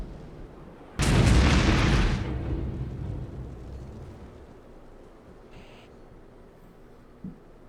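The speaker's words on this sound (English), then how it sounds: "So we have our mortars firing right now." A single heavy mortar launch booms loudly in Armored Brigade, its blast rolling out and decaying over several seconds, followed by quieter rumbling and a faint distant thud near the end.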